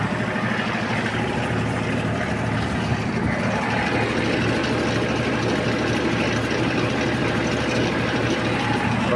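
Kubota GL-21 Japanese mini tractor with a rotary tiller, its engine running loud and steady at raised revs, a dense continuous rumble with no talk.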